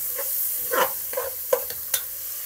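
Ground pork sautés in a pan with a soft sizzle, broken by a few quick scrapes and stirs of a spatula, close and fairly quiet.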